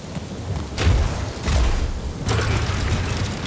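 Gamora wrenching a stubborn cannon loose in the Guardians of the Galaxy video game, heavy rumbling mechanical surges in three broad waves over a constant low grinding bed, with no voices.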